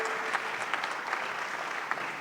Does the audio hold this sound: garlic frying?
no